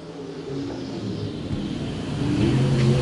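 Hobby stock cars racing at the USRA Nationals on a dirt oval, engines droning and swelling as the pack accelerates, growing louder toward the end, with a distant crowd-and-track wash beneath.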